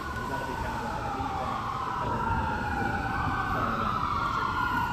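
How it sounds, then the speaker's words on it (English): Wailing sirens sweep up and down steadily over a low rumble of traffic, moderately distant, with no clear speech. "Gotta be loud to compete with the sirens."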